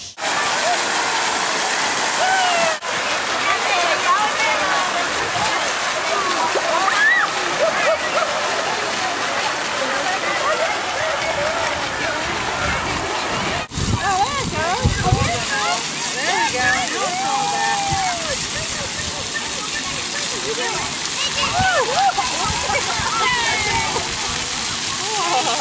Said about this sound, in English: Pitter-patter of raindrops on the roof.